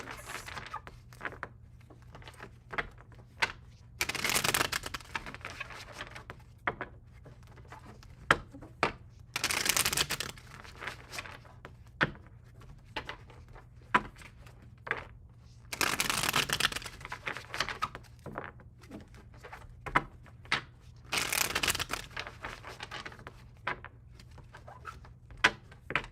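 Tarot cards are shuffled in several brisk bursts separated by quieter handling, soft riffling and tapping close to the listener.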